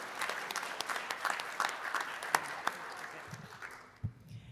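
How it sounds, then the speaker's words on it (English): Rotary meeting attendees give a pianist a round of applause, scattered claps from a modest group, fairly faint and thinning out toward the end, with a few low thumps near the close. "Let's give Janet a round of applause on the piano."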